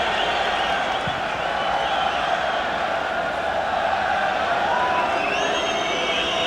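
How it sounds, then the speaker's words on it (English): Belgian football crowd at Standard Liège whistling at its own team during a 1993 Cup Winners' Cup match against Arsenal, a steady shrill wash of whistles filling the stadium with no break. "every time the Belgians get it now, they're being whistled at by their own fans"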